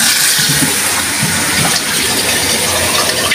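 Water runs in a bathroom, pouring and gushing loudly and without a break in a steady, close hiss.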